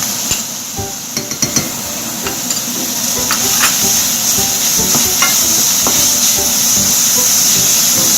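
Kreung paste hitting hot pork in a pan, a sudden loud sizzle that builds into a steady frying hiss, with stirring clatters near the start and no talk.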